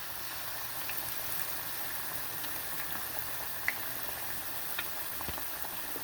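Saltfish fritters slowly frying in oil on a stove, giving a steady soft sizzle throughout with a couple of small pops, quiet and close.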